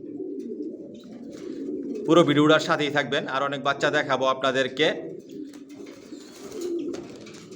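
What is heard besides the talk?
racing pigeons cooing in loft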